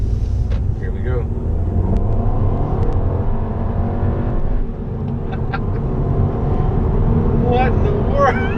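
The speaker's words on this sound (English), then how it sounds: "have an opportunity here to do a second gear pull." A tuned 2016 Volkswagen Jetta GLI with a Stage II APR tune pulls hard in second gear, its engine note rising steadily and loud from inside the cabin, with a brief dip midway and a voice speaking over it.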